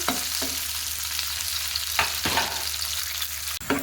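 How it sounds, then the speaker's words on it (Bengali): Onions fry in a pan with a steady, close sizzle, broken by a few scraping stirs and a brief clatter near the end. "পেঁয়াজটাও কিন্তু ফ্রাই করে নিচ্ছি"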